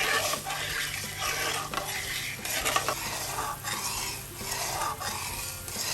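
Chalta pickle stirred in a pan with a little mustard oil gives off a steady close sizzle, with rhythmic scraping strokes of the spoon against the pan throughout.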